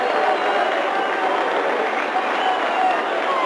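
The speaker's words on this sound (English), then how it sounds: "John Reilly going off to a very warm round of applause." A football crowd applauding warmly as John Reilly of Dundee United is substituted in a match against Kilmarnock, a continuous broad wash of clapping from a large stadium audience, steady and sustained throughout.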